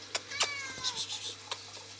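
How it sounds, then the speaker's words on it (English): A cat meows close by indoors, a few short rising and falling mews in quick succession against a low steady hum. "The cat is here. You just can't see as far. You can probably hear it though."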